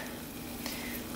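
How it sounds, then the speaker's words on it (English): Water boils steadily on a part from a Ford Explorer 5R55W transmission to soften a hardened gasket, giving a continuous close bubbling hiss with no talking. "So let it sit, let it boil for a little bit."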